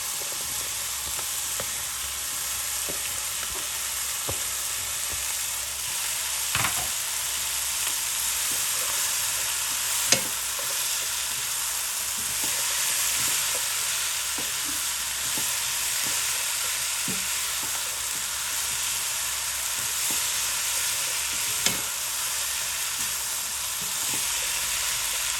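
Capsicum stir-frying in a wok for chicken chow mein makes a steady, close sizzle that runs the whole time, broken by occasional soft clinks and scrapes of stirring, with no talking.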